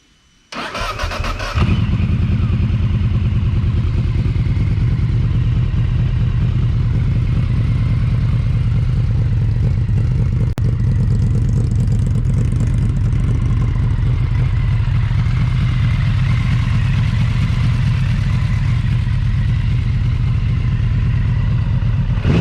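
A second-generation Yamaha VMAX motorcycle cranks and fires up after a short starter whir, then settles into a loud, close, steady idle rumble that runs unbroken to the end.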